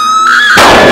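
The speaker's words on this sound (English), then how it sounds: "We heard a scream." A person's loud, shrill scream in a stage comedy mystery show, a single sustained high-pitched shriek that rises and breaks into a harsher, noisier cry within a second.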